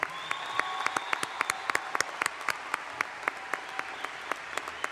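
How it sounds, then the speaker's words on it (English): A round of applause from an audience at a high school commencement ceremony, scattered claps merging into steady clapping that carries on throughout. "How about one more hand of applause for those kids?"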